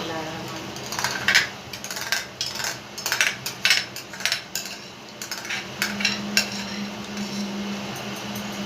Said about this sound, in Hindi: इसमें चम्मच चलाते रहें और अब इसमें मसाले डालें।